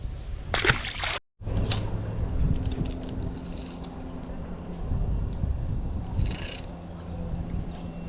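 A bass of about two pounds is released back into lake water in a Minnesota swamp area, making a brief splash early on, then faint sloshing and steady outdoor background noise.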